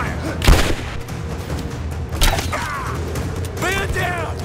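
Gunfire in Rise of the Tomb Raider, with a loud sharp shot near the half-second mark and another burst later, over a steady game soundscape with scattered chirping effects and voices.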